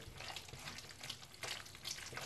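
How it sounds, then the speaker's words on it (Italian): Thick, wet squelching as spaghetti is stirred through a creamy ricotta and pecorino sauce, soft and close, with no voices. "Questo rumore è il rumore della pasta ricotta."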